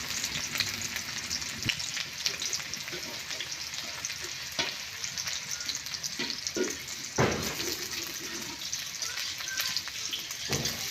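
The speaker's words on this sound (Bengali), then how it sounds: "এখন আমি কাঁচামরিচ পেঁয়াজ দিয়ে বেজে নেবো" Green chilies and onion sizzle in hot mustard oil in a kadai, a steady close frying hiss with occasional stirring scrapes and clinks, no voice over it.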